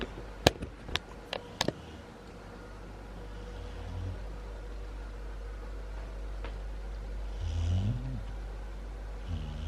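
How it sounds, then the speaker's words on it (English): Soft, low snores from a sleeping dog, two slow breaths standing out faintly against quiet room noise after a few light clicks. "just hearing her snore, I love it"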